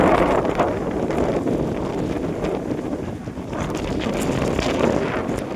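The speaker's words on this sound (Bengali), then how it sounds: "ঝড় ও বাতাসের সঙ্গে বৃষ্টি হচ্ছে" Strong storm wind gusts across the open bank of the Ganges near Farakka during rain, a loud, continuous broadband roar buffeting the microphone, swelling and easing slightly throughout with no voices.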